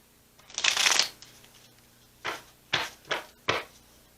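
A Golden Girls Tarot deck being shuffled by hand, one long riffling burst followed by four shorter, crisp card-shuffling bursts close to the microphone.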